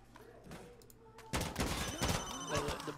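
Gunfire in the video game Insurgency Sandstorm, a quiet opening followed by a sudden loud burst of rapid automatic shots and scattered bangs that continue to the end.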